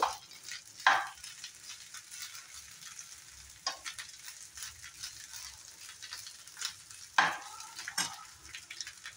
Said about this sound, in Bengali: গ্যাসের ফ্লেমটা বাড়িয়ে দিয়ে ভালো করে ফ্রাই করে নেব।